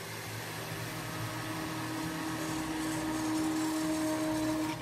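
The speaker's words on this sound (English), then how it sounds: "All right, so just with your immersion blender." An immersion blender whirs through a gelatin and cilantro liquid to froth it into foam, a faint steady motor drone with a soft hiss that rises slightly toward the end.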